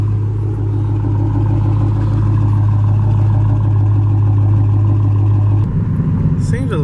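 A Dodge Challenger R/T idles close by with a freshly cleaned and re-oiled K&N air filter: a steady, loud, low drone that holds evenly, then shifts tone briefly near the end.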